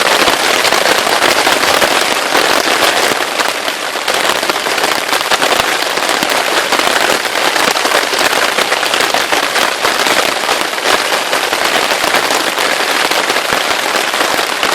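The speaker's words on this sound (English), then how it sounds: "Well, it's raining." Steady heavy rain pours down during an overnight hammock camp, a dense continuous patter hitting a surface close by with no voices.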